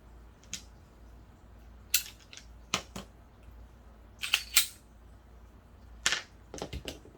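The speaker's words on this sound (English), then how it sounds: "Now, I need you to clear that weapon." A handgun being cleared during one-on-one firearms training, with a handful of sharp metallic clicks and clacks from the slide and action, scattered irregularly over quiet background and no talk.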